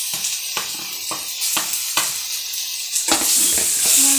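Tomatoes fry in a hot pan with a loud, continuous sizzle. A spoon stirs them in regular strokes that scrape and clack about every half second, and the hiss grows brighter near the end.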